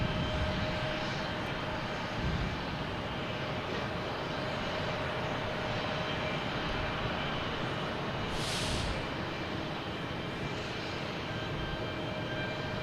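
Jet airliner taking off from runway 22 right at Boston Logan, a steady broad engine roar that stays loud and continuous throughout, heard from nearby with no talk over it.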